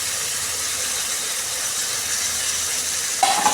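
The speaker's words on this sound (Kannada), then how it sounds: "ಈ ರೀತಿ ಫ್ರೈ ಮಾಡ್ತೀವಿ ಸ್ವಲ್ಪ ಹೊತ್ತು" Green chili, ginger and coriander leaves fry in a pan with a steady, bright sizzling hiss that stays even throughout, with no talking.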